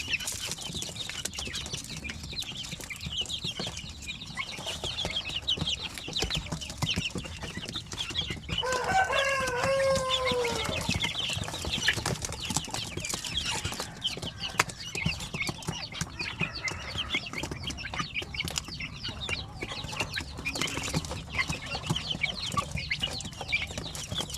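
Young Basilan, Zampen and Shamo Aseel chicks and hens cluck and peep faintly in an outdoor yard, with scattered soft calls over a low background hiss and no talking.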